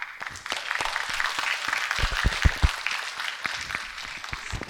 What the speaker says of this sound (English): A huge round of applause for the esteemed panelists for Vartalap.